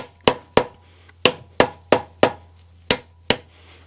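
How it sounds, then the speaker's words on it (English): A rubber mallet taps a wheel bearing seal into a Willys Jeep front hub: eight sharp, evenly spaced knocks up close, each ringing briefly against a quiet background. "I'm just kind of lightly tapping it with a rubber mallet, and it's going right in."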